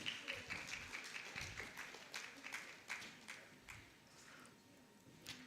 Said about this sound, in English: All right, a round of applause, please.